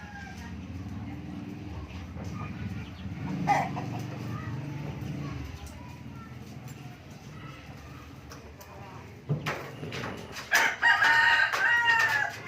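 A chicken crows and clucks near the end, loud and close, after a stretch of murmuring voices and outdoor background noise.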